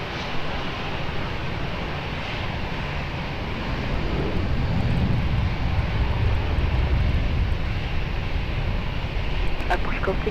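A jet airliner on approach to runway 20 at Lisbon Airport drones in a steady, broad engine roar that swells slightly, heard from a distance with wind buffeting the microphone throughout.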